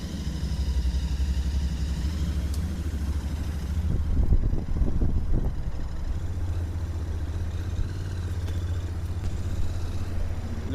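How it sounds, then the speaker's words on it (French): A Royal Enfield motorcycle engine idles steadily nearby while warming up, with a low rumbling throb, briefly picking up a rougher pulse before settling back to its even idle. "Laissez le moteur chauffer."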